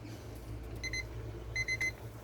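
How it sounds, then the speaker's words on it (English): A 10-minute kitchen timer goes off while corn is being canned, giving two short bursts of rapid high beeps over a low background rumble. "so that's my 10-minute timer"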